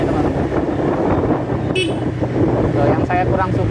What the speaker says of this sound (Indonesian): Klaksonnya ini nggak terlalu kenceng teman-teman.